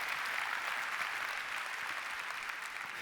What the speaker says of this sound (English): Can we give a round of applause for our essential workers?